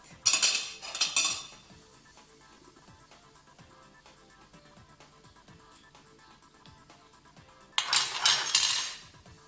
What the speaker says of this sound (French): Et vider l'intérieur de la tomate.